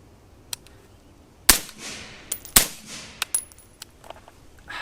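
Rifle shots ring out while a lightweight bolt carrier group is tested, two sharp loud cracks about a second apart, with smaller clicks and clinks of brass and gear between them.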